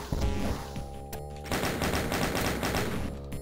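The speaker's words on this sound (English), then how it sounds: "the freaking chain gunners are just out of control." Chaingunner enemies firing in Doom 2, a dense rapid stream of gunfire rattling continuously at close range, loud and unbroken over game noise.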